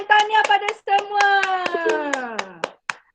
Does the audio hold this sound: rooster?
no